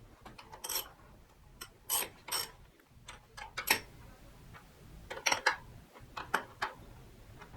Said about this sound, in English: go ahead and grab your wrench, tighten them up.